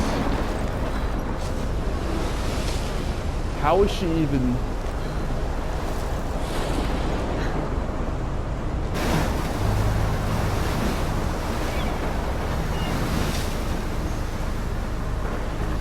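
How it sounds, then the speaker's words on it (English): Roaring ocean surf and a churning waterspout fill the scene in the game Life is Strange, a loud continuous rush of wind and water with a sweeping whoosh near the middle; a voice speaks briefly. "that is a really big water spout"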